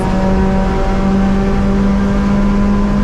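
A race car at Sepang Circuit accelerates hard at full throttle, its loud, continuous engine drone climbing steadily in pitch, close and with no talk.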